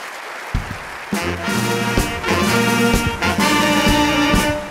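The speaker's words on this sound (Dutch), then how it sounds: "Geef ze een groot applaus, mensen." Audience applause at a circus show in Venray, a dense wash of clapping that swells and holds steady, with music and a booming amplified voice running through it.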